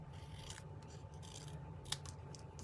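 Scissors snip away excess paper while making a handmade card, giving quiet, close crisp cuts and rasping slides with one sharper snip, and no talking.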